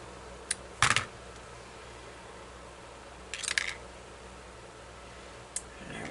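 Scissors snip through ribbon for a St Patrick's Day boutique hair bow: a few brief, sharp crisp cuts, one near the start and a cluster midway, separated by quiet room tone.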